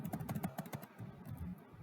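Quick taps on a computer keyboard, several sharp clicks in a short burst followed by softer scattered keystrokes, faint and close.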